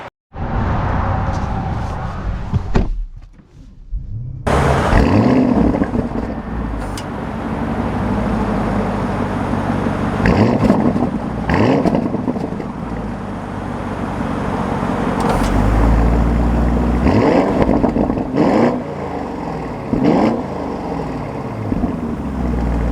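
A 2024 Audi SQ8 engine roars and revs over about twenty seconds in loud, repeated surges that rise and fall, following a brief near-silent gap and continuing under steady road noise.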